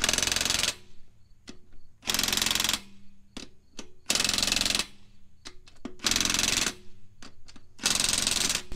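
A pneumatic impact wrench tightens lug nuts on a car wheel in four loud, harsh, hammering bursts, with short pauses of clicks and ratcheting between them, at close range and with no talking.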